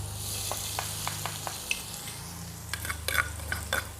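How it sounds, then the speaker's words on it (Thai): Fresh chili and garlic stir-fried in hot oil for a fried croaker dish, a loud close sizzle under repeated spatula scrapes, with metallic clinks growing busier toward the end. "ครับมาแล้วมาผัดกันตั้งมันแล้ว ผัดพริกสดครับ"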